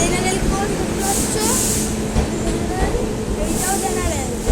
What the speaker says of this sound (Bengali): জেনারেল কোচ, এটা জেনারেল কোচ।